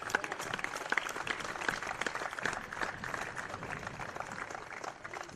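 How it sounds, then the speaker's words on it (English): An audience at a women's tennis championship gives a steady round of applause for the tournament officials, the clapping dense and moderately distant, running for about five seconds without a break. "Let's give a round of applause for the officials today."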